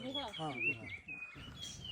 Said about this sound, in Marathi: सकाळच्या वेळी पक्ष्यांचा हा मंत्रमुग्ध आवाज मनाला अगदी प्रफुल्लित करत आहे